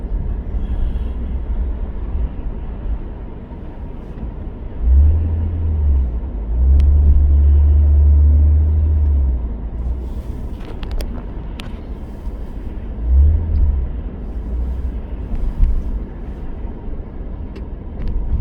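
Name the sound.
car interior rumble in traffic jam, phone dash cam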